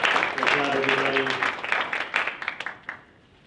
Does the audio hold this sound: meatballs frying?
no